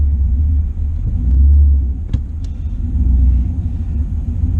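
A car fitted with Holley EFI accelerates up an interstate on-ramp, a loud low engine rumble swelling and easing with road noise and a couple of sharp clicks, no voices.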